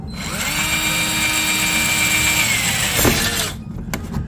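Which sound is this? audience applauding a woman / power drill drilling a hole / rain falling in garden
power drill drilling a hole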